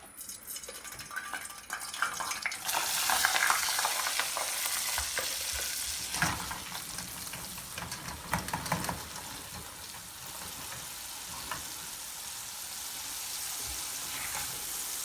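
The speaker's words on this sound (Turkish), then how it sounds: "Evet şimdi kızartmaya götürüyorum." Floured liver sizzles and crackles steadily in a hot pan, with occasional stirring and scraping sounds over a continuous frying hiss.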